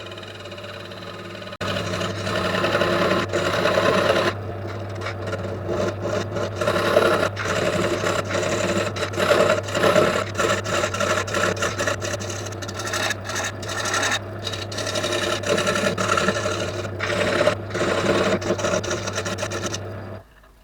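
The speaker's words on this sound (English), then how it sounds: "Just refining the tenon with my small parting tool" An oak tenon is refined on a wood lathe with a small parting tool, giving a steady motor hum under continuous scraping and rasping of the cutting edge, close and sustained.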